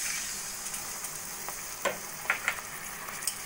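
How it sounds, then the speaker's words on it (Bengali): Potatoes and milk sauté in a pan, giving a soft, continuous sizzle broken by a few light stirring scrapes and taps. "দুধটা আলুর সঙ্গে মিশিয়ে ভালো করে কষিয়ে নেব।"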